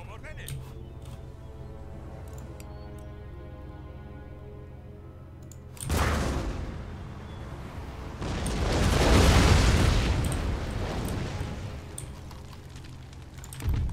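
Artillery bombarding city walls in the strategy game Empire: Total War, a siege at Madrid, with a sudden loud boom followed by a long rumbling roar of blasts and crumbling that swells and slowly fades, amid a steady low battle hum.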